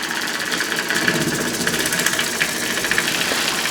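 A small oscillating steam engine running on steam, chuffing in a fast, steady rhythm with a metallic knocking beat, close and fairly loud, with a faint hiss of escaping steam.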